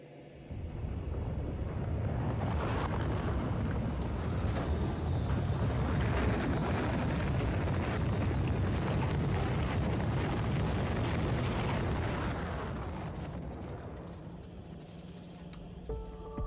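A rocket blasts off from a rocket silo in the video game Factorio, a loud, broad roar that builds over about a second, holds steady for roughly ten seconds, then fades away.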